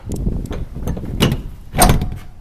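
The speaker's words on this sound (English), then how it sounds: "So yeah, so we'll shut the door up." The door of a curtain-side Scania rigid truck is pulled shut. Rolling, scraping movement builds to a loud bang as it latches, heard close and outdoors.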